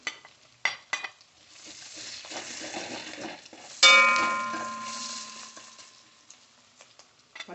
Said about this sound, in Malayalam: ഈ എണ്ണയിൽ തന്നെ നമുക്ക് സവാളയൊക്കെ വഴറ്റിയെടുക്കാം